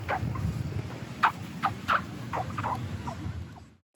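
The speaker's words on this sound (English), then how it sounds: "it is the sound of bare feet squeaking in the sand as they run on the beach" Bare feet run across beach sand, giving a quick series of faint, high squeaks over a soft noisy hiss, about eight steps in under four seconds.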